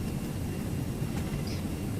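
The engines of an A320 airliner in a flight simulator game roar steadily at full takeoff throttle, a constant low rumble with no voices over it.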